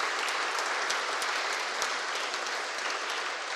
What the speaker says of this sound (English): Let's give our committee a big round of applause, everyone.